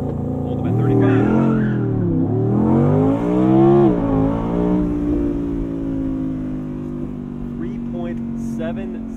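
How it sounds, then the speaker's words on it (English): An Audi R8 Performance Spyder RWD launches hard under launch control, its engine revs climbing through rising and falling gear pulls with brief tire chirp, loud and close, then settling to a steady drone as a voice talks over it. "to do launch control, you just hold your foot hard on the brake and pin the throttle."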